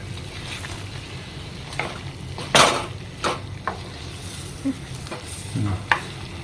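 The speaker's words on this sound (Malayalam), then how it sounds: "ഇത് നന്നായിട്ട് നമ്മൾ മിക്സ് ചെയ്യാം കേട്ടോ." Fried chicken being mixed through North Indian style curry masala on high flame, with a steady sizzle and several sharp spatula scrapes and knocks against the pan, close and fairly loud, no talking.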